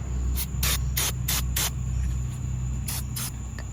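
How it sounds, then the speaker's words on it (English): Brake cleaner from an aerosol can sprayed onto a rag while prepping RC drag car tires, heard as a run of short, loud hissing bursts in two groups over a steady low hum. "You want to spray it in the rag."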